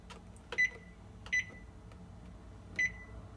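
A kitchen timer gives three short, high electronic beeps at uneven intervals over a quiet room hum.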